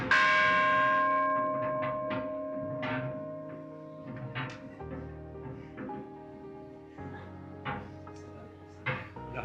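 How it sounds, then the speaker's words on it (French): A buoy bell is struck by a rolling metal ball inside it, giving a clear ringing strike followed by several softer, irregular clanks as the tone lingers and slowly fades, close and alone. "Il y a une bille qui roule et qui va venir frapper la cloche."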